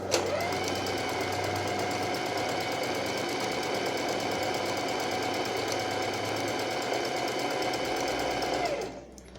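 A sewing machine runs a narrow, tightly closed zigzag stitch in one continuous, even whir for about nine seconds, close and steady, before stopping abruptly.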